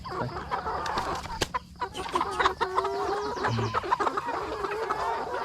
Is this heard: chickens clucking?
yes